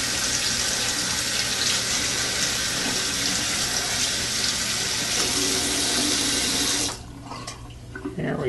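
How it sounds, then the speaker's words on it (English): Tap water runs steadily over a Motorola phone as it is rinsed under the faucet, a close hissing splash that stops abruptly near the end, leaving only faint handling noise. "Just give it a little bit of a rinse."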